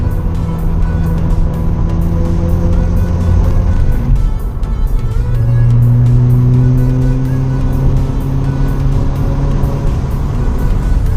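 A Mazda RX-7 FD with a rotary engine drones loudly and steadily while driving, its pitch climbing and falling through revs and a gear change, close and continuous throughout.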